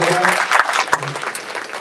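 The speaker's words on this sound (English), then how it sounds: "Let's give them another round of applause." Audience applause at a South Carolina candidate forum for election office seats: a steady wash of clapping that runs under a voice talking the whole time.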